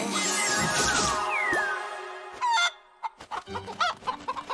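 A cartoon ogre imitates a hen with a voice, first crowing with rising squawks, then breaking into a series of choppy, loud clucks and cackles that come close and clear.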